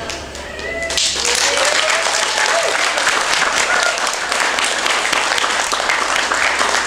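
A large audience at an Islamic pengajian gathering at SMAN 2 Ngawi bursts into dense, loud, sustained applause after a brief moment of voice at the start.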